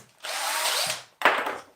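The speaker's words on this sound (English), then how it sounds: "I'm just going to use a battery drill" A battery drill fitted with a 25mm spade bit bores into wood for a birdbox: one sustained whirring burst of nearly a second, a short pause, then a second shorter burst, close and loud.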